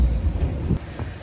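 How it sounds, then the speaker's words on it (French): Wind buffeting a microphone outdoors in cold weather, a loud low rumbling roar with uneven gusts throughout the short moment, no other sounds standing out. "Guys, il y a du vent en plus."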